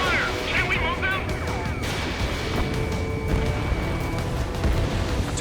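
Gunfire on radar vehicles in the air combat video game Ace Combat 7, dense rumbling bursts and booms over a constant engine drone, with faint radio voices in the background.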